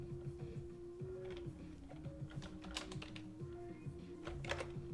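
Continuous typing on a Swedish computer keyboard, with dense, irregular key clicks close to the mic over a steady low hum throughout, with no voices.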